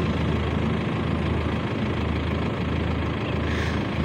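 An engine idles steadily without stalling, giving a continuous low, rumbling drone with even vibration and no pauses, close and fairly loud, with no voices.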